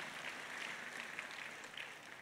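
Church congregation applauding steadily throughout, a dense, even wash of many hands clapping at moderate loudness with no talk over it.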